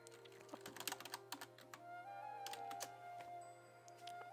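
Quick keystrokes on a computer keyboard typing text into a sheet music app, with irregular bursts of clicks, quiet and close, and no talking.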